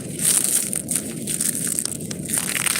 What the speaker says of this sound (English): so I gotta break up the sugar a little bit.